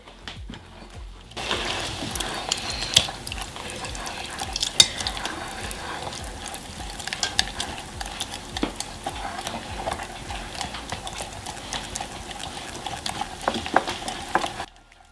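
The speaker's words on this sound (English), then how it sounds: "I'm going to start whisking." A whisk beats keto pancake mix batter for waffles in a bowl, a fast continuous rattling and clicking against the bowl with sharp knocks throughout, close and fairly loud, with no voices.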